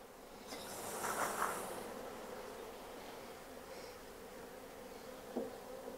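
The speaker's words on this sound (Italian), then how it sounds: "ora quello che noi andremo a fare è scrollare le api dentro" Honeybees being shaken down into a hive while making an artificial swarm, giving a steady insect hum with a louder buzzing surge early on and a brief knock near the end.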